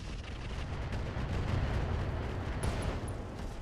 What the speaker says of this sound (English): we're going to just drop missiles on this griffin.